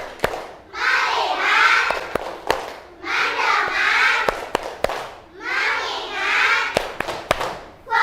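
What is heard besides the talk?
group clapping rhythm chant in classroom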